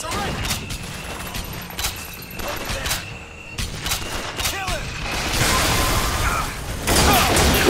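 Enemy gunfire in BioShock Infinite, a run of sharp, loud shots and bursts coming in irregular clusters amid mechanical clatter and dense game noise, with a voice talking over parts of it.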